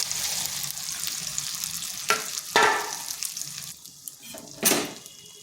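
Cabbage drops into a hot pan already frying tomato and green chilli, sizzling and crackling, with a few louder bursts and spatula scrapes near the end.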